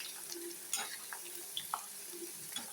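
Cauliflower 65 frying in hot oil in a pan, a soft, faint sizzle broken by light stirring scrapes and a few small clinks as the pieces are turned.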